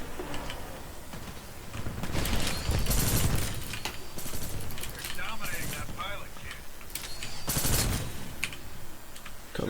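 Shots from the Cold War launcher weapon in the shooter game Titanfall 2, several heavy bursts and explosive thumps spaced across the stretch amid ticking mechanical clatter, with someone talking over the action.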